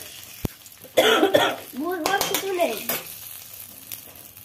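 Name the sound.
sugar frying in hot oil in a pan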